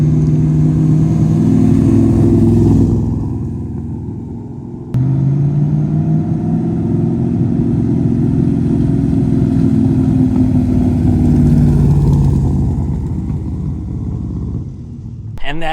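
AC Cobra driving through city streets, a loud, close, rumbling engine that drops away briefly and then returns to a steady cruising note.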